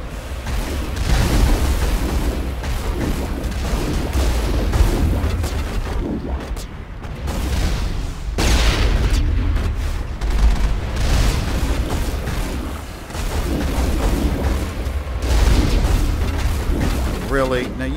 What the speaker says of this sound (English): you, you see where that missile hit